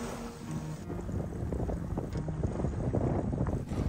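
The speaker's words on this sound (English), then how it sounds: "waves breaking across the bommies." A Fleming 55 motor yacht at sea near Swains Reef at low tide, with waves breaking over the reef bommies: a steady broadband wash and wind rumble, continuous and fairly close, with no voices.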